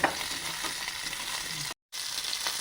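Small shallots sautéing in oil in a pan for a village-style tamarind curry, a steady close crackling sizzle with faint stirring, briefly cut by a short silent gap near the end.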